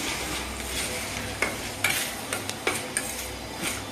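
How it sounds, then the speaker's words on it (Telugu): Egg being stirred in a hot pan for egg fried rice, a steady frying sizzle with scraping stirring strokes and a few sharper clinks of the utensil against the pan, close and alone. "వేసుకుని పచ్చి వేసుకుందాం గుడ్డ ఇలా కలుపుకుందండి"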